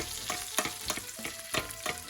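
Mangalitsa pork chops sizzle loudly in a pan on gas, basted with foamy butter, garlic and sage, with rhythmic spoon clinks and bursts of spitting fat every quarter second or so.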